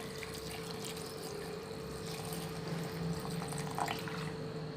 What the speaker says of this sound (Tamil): ஒன்றரை கப் தண்ணி விட்டுருக்கேன்.